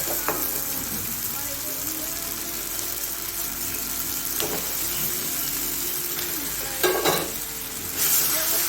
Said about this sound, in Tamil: இதை நல்லா இந்த மசாலா கூட மிக்ஸ் பண்ணுங்க